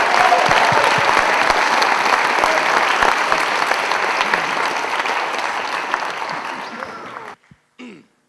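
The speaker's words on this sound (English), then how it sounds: "So another round of applause for everybody here." A concert audience at a high school spring symphonic band performance applauds loudly and steadily for several seconds before the clapping cuts off abruptly, leaving brief quiet.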